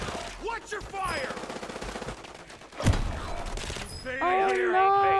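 Gunfire in the Call of Duty Warzone video game, rapid automatic bursts with one sharp nearby shot, heard under a player's talk and other game sounds.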